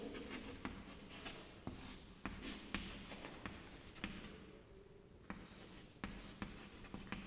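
Chalk or marker writing on a classroom board in a Hindi lesson, with quick repeated strokes and sharp taps in an uneven rhythm, close and fairly faint, with no talk.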